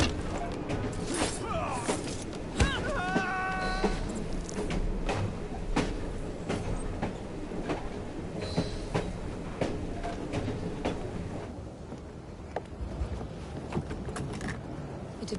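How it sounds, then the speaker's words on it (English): A train rumbles along in Assassin's Creed Syndicate, with a steady mechanical roll broken by frequent clanks and rattling clicks, plus a brief tonal whine early on, at a moderate level throughout. "Oh well, at least we have a train now."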